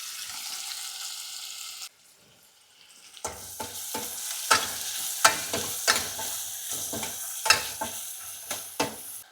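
Garlic, curry leaves and onion sautéing in oil. A quiet stretch gives way to close, bright sizzling and a steady rhythm of spatula scrapes and taps.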